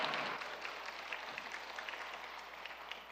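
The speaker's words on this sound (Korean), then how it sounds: "할렐루야하고 박수하시는 거 보니까" Congregation applause at an evening church revival meeting in a hall, a quiet wash of clapping that fades from a louder start into softer scattered claps, heard from a distance.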